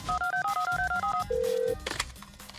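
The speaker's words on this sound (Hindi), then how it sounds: "शोमू का दोस्त शोमू के बाप को फोन करता है" A phone keypad is dialed in a Hindi film scene, giving a quick run of about a dozen short, evenly spaced DTMF tones, then one longer steady tone, with a rustle after it.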